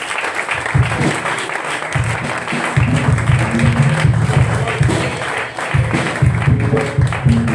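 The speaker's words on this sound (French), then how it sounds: "Avec les acclamations, nous allons recevoir." Church congregation applauding and cheering during a French-language worship service, a steady loud wash of clapping with voices mixed in throughout.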